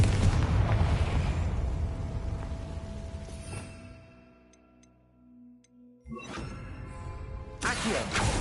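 A Confringo blasting spell explodes in a Hogwarts video game: a loud, rumbling roar that fades to near quiet over several seconds, followed by two more sharp blasts.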